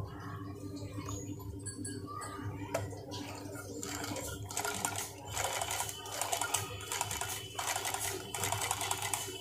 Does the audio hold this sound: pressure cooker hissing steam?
no